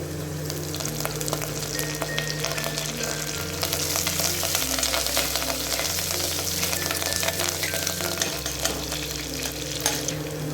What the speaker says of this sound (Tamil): பச்சை வாசம் போகிற வரைக்கும் கொஞ்சம் வதக்கிட்டு அப்புறம்